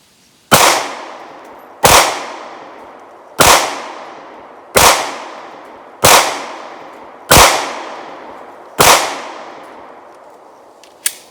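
Seven loud, close pistol shots from a Taurus G2C at a shooting range, each a sharp crack with a ringing decay, fired at an even pace about a second and a half apart.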